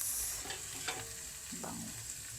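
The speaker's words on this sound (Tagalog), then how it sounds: "Ang bango-bango talaga gisahin ng bawang at sibuyas." Garlic and onions sizzle steadily in a hot pan while being stirred, a close, continuous frying hiss with faint scraping and no talk.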